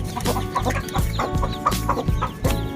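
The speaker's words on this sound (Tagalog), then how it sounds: "Ito yung maraming sisiw." Chickens cluck steadily in a backyard coop, with a busy chorus of many chicks peeping throughout at close range and no talk over them.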